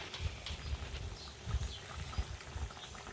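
Shoal fish curry with radish bubbling in a pot, a steady low gurgle with rhythmic popping bubbles, close and alone.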